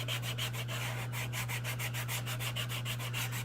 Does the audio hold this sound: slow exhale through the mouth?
no